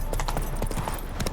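Roach, Geralt's horse in The Witcher 3: Wild Hunt – Hearts of Stone, trots with a steady run of close hoof clip-clops over a busy game ambience.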